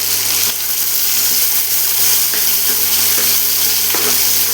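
Onion and tomato sautéing in a pan for South Indian mor kulambu, a steady broadband sizzle with faint stirring scrapes, fairly close and continuous, no talk over it.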